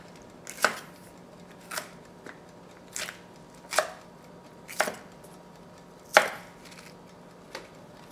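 A knife chops green onion on a cutting board in about eight crisp, separate strokes at an uneven, unhurried pace, close and clear with no talking.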